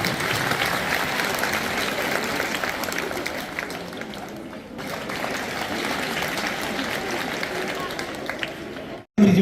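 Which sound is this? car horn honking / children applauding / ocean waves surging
children applauding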